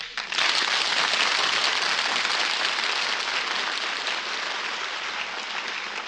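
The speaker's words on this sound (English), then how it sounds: "Ladies and gentlemen, thank you very much for your applause" A radio studio audience applauds loudly and steadily for about six seconds, a dense wash of clapping that begins abruptly and holds full, fading only slightly toward the end.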